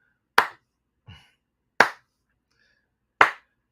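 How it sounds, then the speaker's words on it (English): A slow clap at a live show: three sharp, isolated claps land about a second and a half apart, with a softer tap between the first two and silence around them. "Slow clap it."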